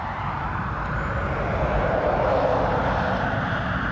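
A Ryanair airliner arriving from Madrid at Dublin Airport makes a close, steady jet roar that swells slightly and stays broad and continuous, with no one speaking.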